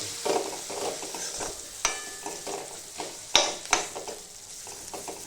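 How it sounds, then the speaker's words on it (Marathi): Homemade onion masala with turmeric frying in oil for a broad-bean pod dish, a quiet sizzle broken by repeated spatula stirs and a couple of sharp metallic clinks against the pan. "तो तेलामध्ये चांगला फ्राय होऊ द्यायचा."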